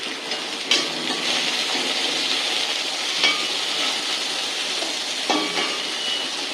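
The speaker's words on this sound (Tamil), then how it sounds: "நம்ம நறுக்கி வச்ச பாவக்காயை அதில் போடுறோம்." Chopped bitter gourd pieces sizzle in hot cooking oil in a pan, a steady close hiss with a few brief crackling surges, no talking.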